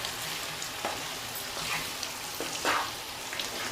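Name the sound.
salted lemons frying in sesame oil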